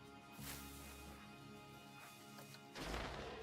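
Fireworks in the Planet Coaster theme-park game: two faint, muffled bursts, one early and a louder one near the end, over a quiet low hum.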